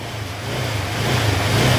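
A Honda Click 125 scooter with a noisy engine runs during repair work, giving a steady low mechanical hum that grows slightly louder toward the end, close by and without talk.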